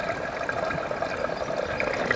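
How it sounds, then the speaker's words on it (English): Water runs into the reservoir of a 1950s Steamaster industrial steam cleaner, a close, continuous splashing trickle with a bright, steady rush and no talking. "Water's filling in the reservoir."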